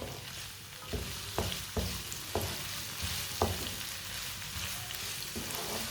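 Noodles with vegetables stir-fried in a pan over high heat: a steady sizzle runs throughout, broken by several sharp clacks of the spatula scraping and tossing at irregular intervals, close and fairly loud with no voices.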